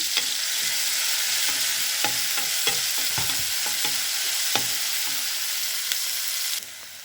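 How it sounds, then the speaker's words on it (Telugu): Green chillies and onion pieces fry in hot oil for a Telugu-style methi curry, a steady close sizzle broken by repeated scraping stirs, with no talk. "ఆయిల్ వేడెక్కిపోయింది. పచ్చిమిర్చి, ఉల్లిపాయ ముక్కలు వేసుకొని కలుపుకుందామండి."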